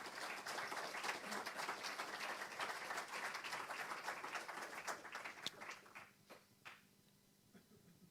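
A church congregation clapping their hands together, a steady crowd rhythm of many overlapping claps that thins out and fades over the last few seconds.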